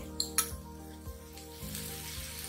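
Minced meat dropping into a pan of softened, translucent onions sets off a steady sizzle, with a couple of sharp metallic clinks from a utensil against the pan near the start and soft stirring scrapes after.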